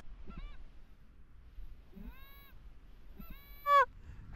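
Geese honk during a late-season goose hunt in Pennsylvania: three separate nasal, rising calls spaced about a second apart, the last one louder and sharper, over a quiet outdoor background.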